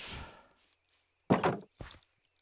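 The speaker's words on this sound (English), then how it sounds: "Footsteps." Footsteps from a Minecraft-style block-building video game, a few soft thudding steps near the listener, with a quiet lead-in followed by two louder steps spaced apart, no talking.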